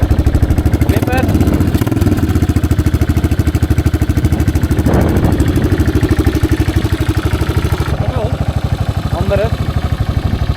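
A 1985 Yamaha XT600 motorcycle engine idles close by with a steady, rapid single-cylinder thump and mechanical clatter, and brief voices talk over it now and then.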